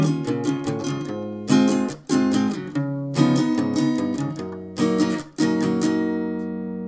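An acoustic-style guitar strums the next line of a song, bright rhythmic chord strums in bursts with brief ringing gaps, loud and up close, without any speech.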